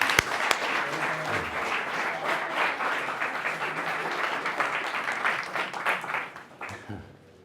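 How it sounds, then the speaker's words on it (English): Audience at a Sydney Fringe magic show breaking into sustained applause and clapping, loud and dense, tapering off at the end. "Give her a round of applause."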